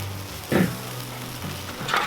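Chicken wings on a Weber kettle grill being flipped, a short burst of sizzling as each wing lands on the grate, with a few quick scrapes and a softer hiss between.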